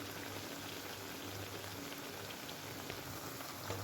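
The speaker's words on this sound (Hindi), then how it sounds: "अब इसको हम गोल्डन होने तक फ्राई करेंगे।" Medu vada, a South Indian lentil fritter, deep-frying in hot oil until golden, giving a dense, steady, close sizzle and crackle like light rain that holds at an even level throughout, with no talking.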